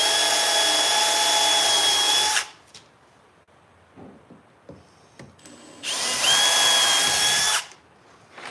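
A power drill bores into wood in two loud, sustained bursts with a whining motor tone, separated by a quiet gap of faint clicks and handling noise.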